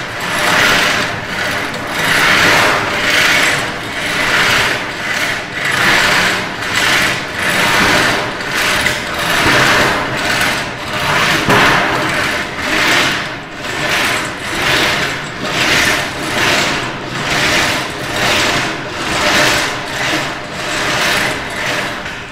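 A gutter bending machine folds sheet metal for a custom gutter, giving a steady, loud mechanical whir with regular rhythmic pulses about every second, continuous and close, with no talk over it.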